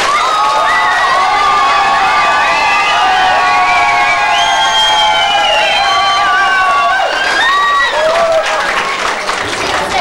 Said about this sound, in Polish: bijemy brawa dla naszych pań